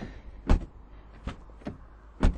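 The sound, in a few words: car door or trunk opening and closing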